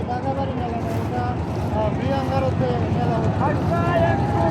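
A racing boat's engine drones at full speed during a boat race between Al Madina and New Uronto Balaka, a dense low roar with wind buffeting, overlaid by loud shouting voices from the crowd or commentator.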